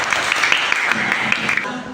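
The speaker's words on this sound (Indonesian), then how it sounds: "beri tepuk tangan untuk" A classroom of pupils claps together during a teaching lesson, a brief burst of quick bright clapping with a few sharper individual claps and some voices mixed in.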